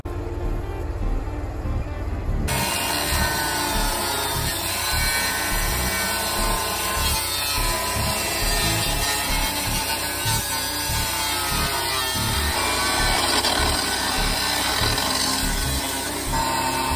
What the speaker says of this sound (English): I'm gonna cut this out with my grinder